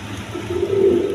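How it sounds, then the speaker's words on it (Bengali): A Lahori pigeon coos steadily, a low rolling call that swells midway, close and fairly loud against a faint background hum. "অরিজিনাল লাহোরি কবুতর।"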